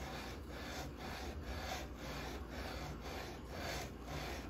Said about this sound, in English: I'm just guiding the block and letting the sandpaper do the work